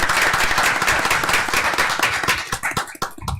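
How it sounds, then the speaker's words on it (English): A city commission meeting in South Bay, Florida breaks into loud, dense applause from the room, steady at first and then thinning into scattered individual claps toward the end. "let's give them a round of applause, because they did a fantastic job this year"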